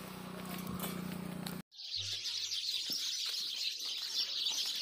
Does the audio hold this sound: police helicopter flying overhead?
no